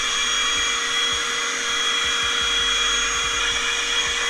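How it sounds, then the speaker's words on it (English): A Flex dust extractor runs with suction, a loud, steady close-up whooshing roar with a constant motor hum and no variation throughout. "It has a little selection switch here for more or less suction."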